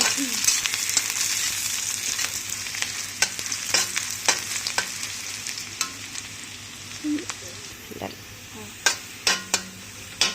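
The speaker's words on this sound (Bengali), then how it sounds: "তারপরে এই দেখেন খুন্তিটা কিরকম করে নাড়ে।" A spatula stirs and scrapes through a dried chital fish curry frying in oil with onion, garlic, ginger and cumin, over a steady close sizzle with intermittent scraping clinks.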